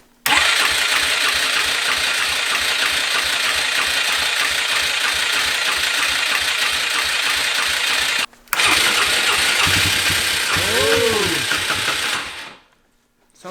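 A quad ATV engine cranks, catches and settles into a fast, even idle that runs loud and close, cuts out briefly, restarts with a revving whine, then dies away.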